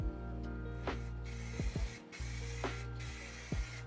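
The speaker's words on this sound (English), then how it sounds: "it's good to spray in long even coats, going past the piece each time" Aerosol spray can spraying primer onto mechanical keyboard parts in several long hissing bursts, close by, with short pauses and light clicks between sprays.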